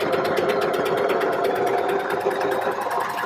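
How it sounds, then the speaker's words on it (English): Sewing machine running steadily while understitching a knit garment, a close, continuous fast whirring drone with a rapid stitching pulse and no pauses. "So now I need to understitch, which I'm going to do on this machine."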